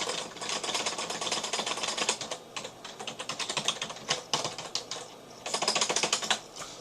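Rapid keyboard typing of a password to sign in, a dense run of crisp clicking keystrokes in bursts with brief pauses, close and fairly loud, no voices.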